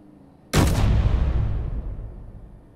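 In the video game Warfare 2 Broadside, a big turret gun fires a single loud, close blast with a sharp onset and a long rumbling decay that fades over about two seconds, with no talking.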